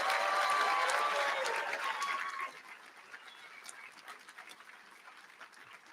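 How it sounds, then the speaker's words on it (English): Applause for graduating students at a spring commencement, loud at first with a few scattered cheers or whistles, then quickly thinning to sparse, fading claps over the remaining seconds. "Let's give a big round of applause to all our graduating graduate students."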